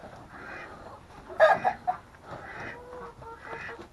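Chickens clucking inside a coop, soft scattered clucks and a brief louder squawking flurry, fairly faint and close with low background noise.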